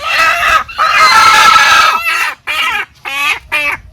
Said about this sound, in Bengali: দেশি মুরগি তো অনেক আছে ওইখানে ধরেছো একটা